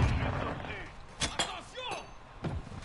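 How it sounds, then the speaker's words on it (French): A flash grenade in the video game Warzone is thrown and lands with a few bright metallic clinks and thuds spread over a couple of seconds, close and fairly loud, amid game background noise and some voice. "Grenade flash lancée."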